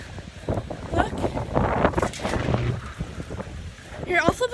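Strong wind blows outdoors at night, gusting and buffeting the microphone in a loud, continuous rush, with occasional thumps and rattles throughout.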